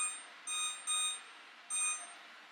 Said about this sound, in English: And I'm going to set my timer